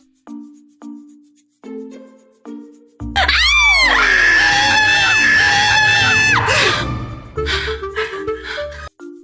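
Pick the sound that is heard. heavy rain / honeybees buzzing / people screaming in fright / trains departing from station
people screaming in fright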